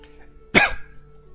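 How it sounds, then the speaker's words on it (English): One short, sharp human cough, close and loud, standing alone against a quiet room hum. "Sorry about the coughing."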